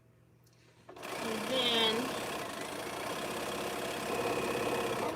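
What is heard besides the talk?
sewing machine sewing quilt borders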